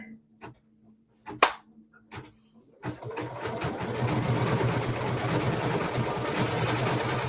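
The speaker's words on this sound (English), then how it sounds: "just do this last stitch out" A home embroidery machine stitches out the final part of a Kimberbell winter tree block. A steady mechanical whir with rapid needle chatter starts abruptly after a few brief knocks and runs continuously, close and fairly loud.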